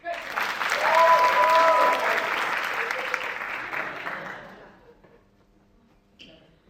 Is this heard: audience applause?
yes